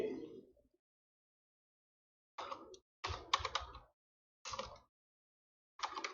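Short bursts of typing on a computer keyboard, quiet and close, with clusters of rapid key clicks separated by pauses of silence.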